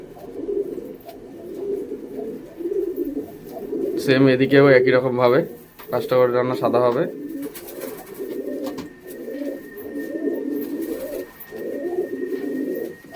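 Crested Sakduma pigeons coo in repeated low rolling phrases close by, nearly continuous through the stretch, while someone talks over them at length.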